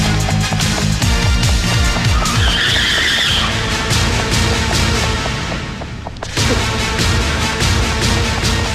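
A car starts and speeds off with tires skidding, a loud sustained screech over the engine roar, swelling and then cut by a sharp thump near the end.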